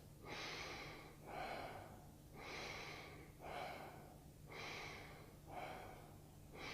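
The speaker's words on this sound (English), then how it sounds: "consciously connected breathing, is simply breathing like this." Consciously connected breathing demonstrated up close: deep, steady inhales and exhales in an even, continuous rhythm, about six full breath cycles with no pause between them, heard alone without talk.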